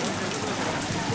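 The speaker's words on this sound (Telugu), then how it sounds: "వర్షం కూడా పడిపోయింది." Rain falls in a steady, close hiss of drops pattering on surfaces, loud and unbroken for the whole moment.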